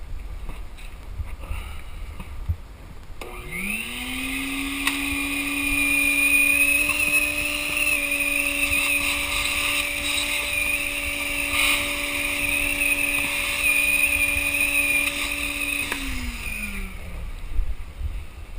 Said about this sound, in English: Vacuum this out real quick.